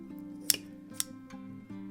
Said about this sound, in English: Use some scissors or a knife or shears or whatever you've got and cut off the excess.